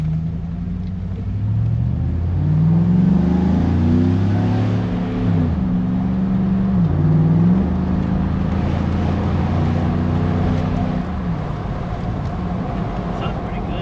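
A cop car engine with the muffler cut off revs up from idle in a few low, rumbling surges, fairly loud and steady, with no talking.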